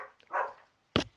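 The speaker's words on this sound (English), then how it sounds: "Sorry about the dogs" Dogs bark nearby in a short burst: a muffled low woof followed by two sharp, loud barks at the end.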